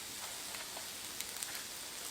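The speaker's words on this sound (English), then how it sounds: "I'm going to add half a stick of butter to the shrimp" Half a stick of butter sizzling with shrimp on a Blackstone griddle, a faint, even hiss with a few soft pops, steady and unbroken over a short stretch with no talking.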